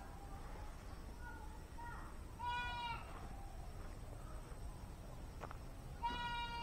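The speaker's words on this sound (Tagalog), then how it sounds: "Tawag ng tawag ang kambing." Native goat bleats ring out on a small farm in short harmonic bursts, two clear calls a few seconds apart over a steady background hiss, with faint thinner cries between.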